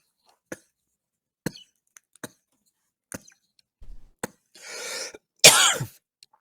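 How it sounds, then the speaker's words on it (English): During a Premodern Magic: The Gathering tournament broadcast, a person stifles a few short, muffled coughs, a sparse run of quiet clicks and bursts that end in a louder, breathy cough. "It was a stifled cough where it actually wasn't too disruptive."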